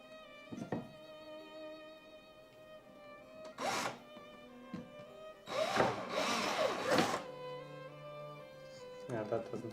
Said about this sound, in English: And then maybe with this broken step drill bit.